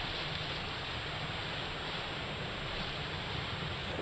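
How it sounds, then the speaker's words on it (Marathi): Water pours from the spillway of Veer dam in Maharashtra after heavy rain raised the reservoir, a steady, dense broadband rush with no breaks and no voices, close and loud throughout. "धरणाच्या सांडव्यातनं पाणी सोडतानाचं हे दृश्य।"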